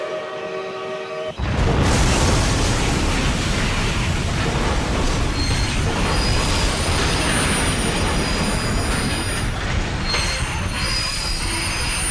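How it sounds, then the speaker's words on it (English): Video game train collision: loud, continuous roar of heavy rail cars grinding along with high metallic wheel squeal, starting abruptly after a brief lead-in and sustained throughout. "The 2 trains collide at Dutchman's Grade near White Bridge Road."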